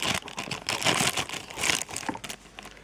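Plastic bag packaging from an Avon order being handled up close, bursts of crisp crinkling and rustling that come and go across a few seconds.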